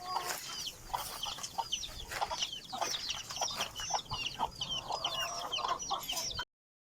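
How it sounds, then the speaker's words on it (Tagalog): Chickens clucking busily over a steady background, with many short overlapping calls from several birds close by throughout. "Bago papakain na tayo ng ating mga manok."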